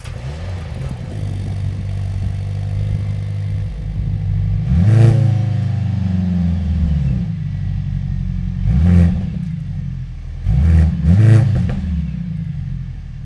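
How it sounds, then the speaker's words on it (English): A Mercedes GLC 63 S E Performance AMG hybrid engine idles with a steady low rumble, then gives three sharp revs that rise and fall, the last two close together. "we'll start the engine."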